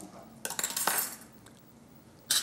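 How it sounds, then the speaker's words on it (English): Metal spoon stirring in a cooking pot, a brief run of scraping clinks and knocks against the side, then quiet and a final clink, no talk. "And I stir that in there."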